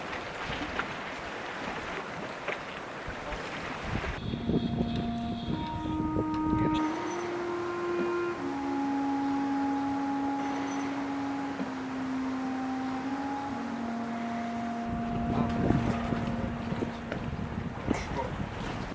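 Small boat motor on a calm Tahiti lagoon at dawn, a steady mid-pitched engine hum shifting in pitch as it throttles, heard close against wind noise, no voices.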